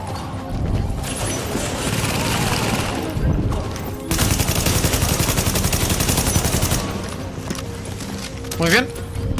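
Gunfire rattles in Tom Clancy's The Division, first scattered loud shots, then a long rapid automatic burst, with a player's voice heard around the shooting.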